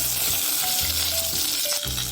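Mustard seeds and curry leaves sizzle in hot oil for a carrot and beans stir-fry, a dense, close hiss with occasional stirring scrapes and small pops.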